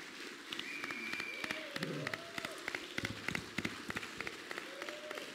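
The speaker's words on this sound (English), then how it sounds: "Let's give a big round of applause for the event management company." An audience at a crypto coin launch event in Asia applauds, a faint, distant patter of clapping with sharper individual claps, while music with a gliding melody plays over it.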